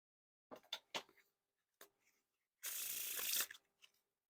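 Skelstrument playing cards being riffled and then spread into a wide fan, a few soft flicks followed by a quick papery rushing whirr up close, quiet and without talking.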